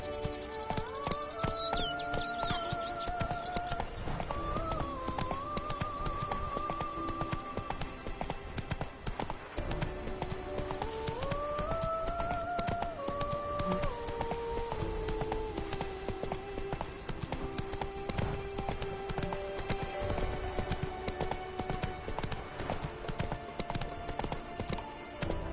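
Horse hooves galloping in The Witcher III, a steady rapid clip-clop rhythm running throughout alongside a melodic game music score, with no talking.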